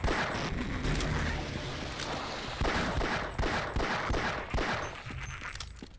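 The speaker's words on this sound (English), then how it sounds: "As you know, we shoot the aliens." Rapid gunfire from a weapon shooting aliens in the game Half-Life: Blue Shift, dense bursts of loud shots with mechanical clicks running continuously throughout.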